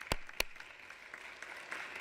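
Audience applause at a conference hall session, faint and distant, a steady patter of clapping with a couple of sharper claps near the start and no speech over it.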